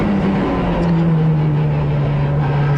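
Race cars, including a BMW and a Lotus, running at Donington circuit after a pace-car restart, heard as a steady, loud engine drone with a sustained low pitch and no break.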